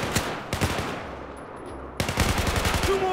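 Rapid bursts of automatic gunfire from the shooter Battlefield 4, loud and close, with a short lull before the firing resumes densely to the end.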